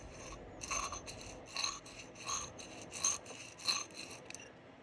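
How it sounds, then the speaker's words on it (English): Worn water pump bearing from a Ford Escape grinding as it is spun by hand, a rough rasping scrape repeating in uneven strokes about once every half second, close and moderately quiet. "I don't know like if that comes through on the video, but there's grinding"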